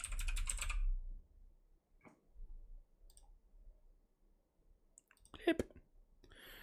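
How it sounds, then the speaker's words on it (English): Computer keyboard and mouse clicks during PC game play, with a burst of rapid close typing followed by scattered sharp clicks and taps in a quiet room, plus a brief voice near the end. "I'm going to be trying to play this game with a keyboard and mouse."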